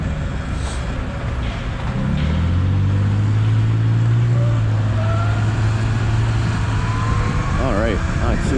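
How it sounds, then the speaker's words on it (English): New York City road traffic with trucks: a continuous rumble of engines and tyres, with a heavy vehicle droning closer and louder through the middle and fading again, under a voice talking. "Except when you have trucks like this causing traffic."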